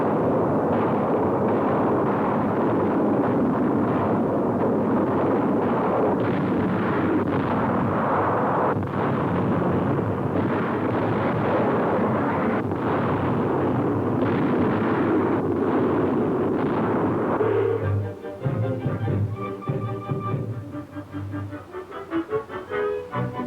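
Bombing explosions as Royal Air Force aircraft destroy enemy war plants in wartime France: dense, continuous roaring blasts and rumble with no let-up, shifting near the end to choppier, pulsing bursts.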